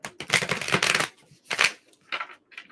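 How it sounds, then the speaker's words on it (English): Tarot cards are shuffled by hand nearby in several quick riffling bursts separated by short pauses, crisp papery flutters with brief quiet gaps between them. "I just feel called to shuffle a few more times"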